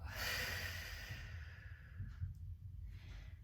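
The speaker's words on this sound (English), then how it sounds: "Breathing in to go down, breathing out." Slow exhalation during a pelvic floor exercise, a long breathy rush that fades after about two seconds, followed by quieter breath noise, close and fairly faint with no talk.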